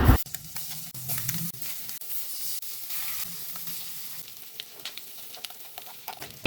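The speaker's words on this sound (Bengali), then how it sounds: "এবার মশলা মাখানো ডিমগুলো একে একে কড়াইয়ের মধ্যে দিয়ে দেব।" Spiced halved eggs frying in butter in a pan, sizzling and crackling steadily close up, with scattered pops and stirring clinks over several seconds and no speech.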